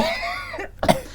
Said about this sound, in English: Then he coughs.